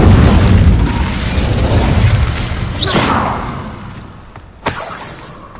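An Incendio fire spell striking rocks in Hogwarts Legacy: a roaring, rumbling fiery burst that fades over several seconds, with a whooshing flare midway and a sharp crack of impact near the end.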